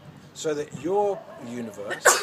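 A short, sharp sneeze bursts out at the end, just after someone speaking calmly, loud and close against his voice.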